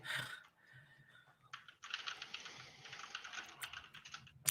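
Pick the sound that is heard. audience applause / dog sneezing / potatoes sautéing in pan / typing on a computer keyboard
typing on a computer keyboard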